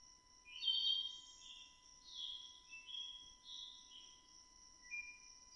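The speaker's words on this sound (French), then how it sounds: "Tu entends les oiseaux au loin." Faint birdsong drifts in from afar, a few clear whistled phrases over a steady high insect drone.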